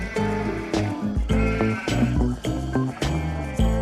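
Sheep on the Faroe Islands bleat several times in quick succession, close and fairly loud, over a steady layer of sustained tonal sound with no talking.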